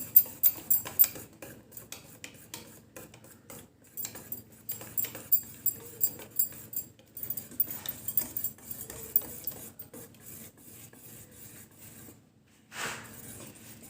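Unniyappam batter being stirred and blended in a bowl, with a steady run of scraping, tapping utensil strokes close by, pausing briefly near the end before a final scrape.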